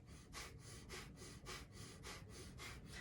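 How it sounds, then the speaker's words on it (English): Rhythmic, sharp exhales through the nose with the mouth closed during a guided somatic breathing exercise, each one a soft airy puff repeating about twice a second, faint and steady. "With a closed mouth, you're going to do sharp exhales through your nose."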